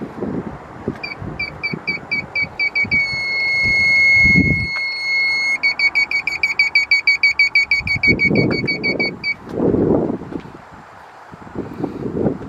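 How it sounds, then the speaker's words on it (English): Electronic beeping from an aftermarket reverse parking sensor on a car, spaced beeps that speed up, merge into a steady tone, then resume rapid pulsing, with wind noise and low rumbling around it. "here it starts beeping, and it starts beeping faster."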